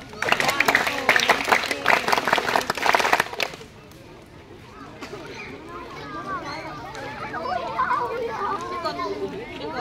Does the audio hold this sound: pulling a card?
no